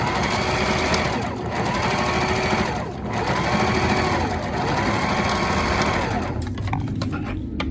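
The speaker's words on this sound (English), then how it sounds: "now we're gonna sew down the bottom of that" A sewing machine sews down a layer of a ladies' wallet with loud, close, rapid stitching in a few bursts separated by brief pauses.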